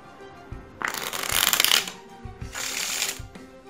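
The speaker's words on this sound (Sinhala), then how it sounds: "උඩින් තියලා මම ඊට පස්සේ මේක ෂපල් කර ගන්නවා." A deck of playing cards is shuffled during a magic trick in two quick riffling bursts, close and crisp, with soft handling taps between them and no speech.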